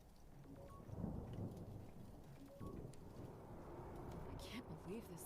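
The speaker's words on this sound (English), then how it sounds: "I can't believe this storm." A thunderstorm in the video game Return to Grace rumbles faintly with steady rain, low rolling thunder swelling in the background and brief crackles, all fairly quiet and distant.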